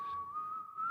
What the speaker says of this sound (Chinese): 大家可以听到我后面的那个口哨其实有点吹不稳。